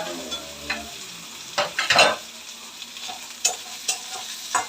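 Onion frying in a pan for a mushroom fry sizzles steadily while a spoon stirs it, with scraping clatters and sharp clicks of utensil against the pan, close and moderately loud, without any talking.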